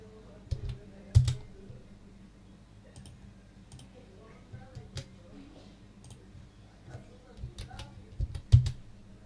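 Keys on a computer keyboard click in short bursts of typing while drafting a floor plan in AutoCAD 2007, soft and close, with a few heavier taps, such as the Enter key, and someone talking over them.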